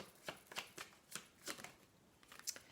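Tarot cards shuffled by hand in a quiet room, a soft run of riffling flicks and slaps in an uneven rhythm, close and faint with no talking.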